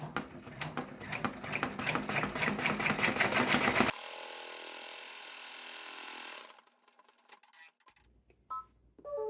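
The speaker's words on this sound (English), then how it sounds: "Next, your placement for your large piece of vinyl will stitch out." An embroidery machine stitches a placement line for vinyl on an in-the-hoop snap badge, a rapid rhythmic mechanical chatter for a few seconds, then a steady hum and soft clicks as it stops.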